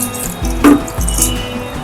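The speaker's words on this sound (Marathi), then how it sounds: "आता याच्यात आपण पाणी ऍड करतोय." Water poured onto spiced rice in a pot or pressure cooker for masale bhat, a short close splash and gurgle between soft metal clinks, with no voices.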